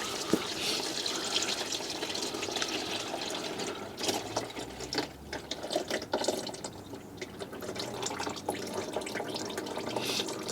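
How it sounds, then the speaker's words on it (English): Hot fluid drains and splashes out of a Fiat 500 during servicing, a continuous faint hissing trickle and spatter with steam, heard alone without talk. "steam, ooh, splashing everywhere."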